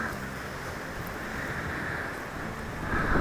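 Ocean waves wash against the shore at a beach house, heard as a steady broadband roar with some wind noise. The surge swells slightly louder near the end.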